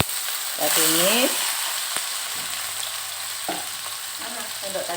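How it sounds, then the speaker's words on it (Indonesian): Marinated beef being stir-fried in a pan for a Hokben-style beef yakiniku, with a soft steady sizzle, a few utensil clinks and a brief voice over the frying. "Kita tumis."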